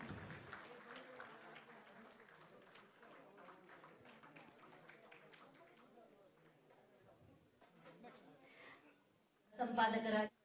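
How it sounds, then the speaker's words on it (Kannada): Someone speaks for most of the stretch at a journalism awards ceremony, then a short, dense burst of clapping from a group breaks out near the end. "ಚಪ್ಪಾಳೆಗಳು ಕೂಡ ಜೊತೆಯಾಗಿ ಬರಲಿ"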